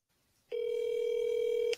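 A phone call connects with a single steady electronic ringback tone that holds for about a second against a quiet background, then cuts off with a faint click.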